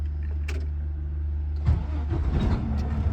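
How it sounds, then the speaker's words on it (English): A truck engine is started from the cab during an in-cab inspection in Ontario: a steady low hum, then a burst of cranking as it fires and runs rough and rumbling, close by. "Firstly, I will start the engine."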